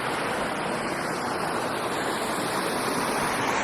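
A creek beside a Black Hills trail flows in a steady, close rushing wash of water over rocks, continuous and even, with no voices.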